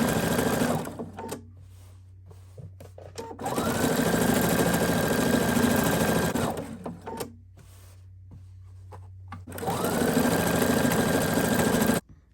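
Sewing machine stitching appliqué onto a T-shirt dress, running in three long loud bursts of rapid humming stitches separated by short pauses with light handling sounds, close and alone.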